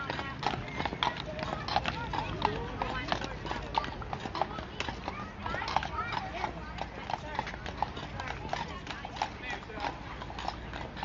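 Horses clip-clop along a street in downtown Ocala, Florida, with many steady overlapping hoofbeats that are close and clear, under a murmur of voices.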